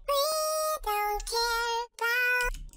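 Vocal pitched up 12 semitones with the Little AlterBoy plugin, giving a high, chipmunk-like sung phrase of four sustained notes separated by brief gaps, close and clear with no background.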